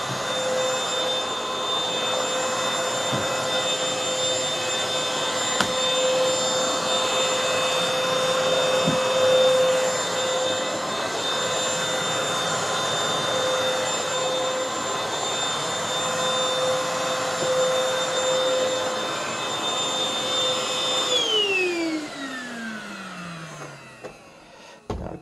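A MOOSOO XL-618A cordless vacuum cleaner runs with a steady high motor whine and airflow hiss for about twenty seconds, then spins down with a falling pitch and switches off.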